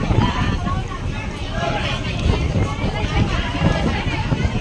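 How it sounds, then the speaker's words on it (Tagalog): Strong wind buffets the deck of a passenger boat in Vietnam, a continuous rough roar that pounds the microphone, with voices faintly mixed in. "Ang lakas ng hangin ay."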